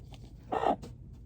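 A single short hen cluck rings out against a quiet background, followed by a fainter chirp.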